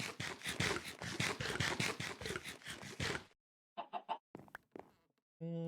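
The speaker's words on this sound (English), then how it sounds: "Also a chicken in my home." A chicken in Minecraft, GregTech New Horizons modpack, clucks in a fast run of repeated short clucks, then a few scattered sparse calls after a brief gap, close and clear with no talking.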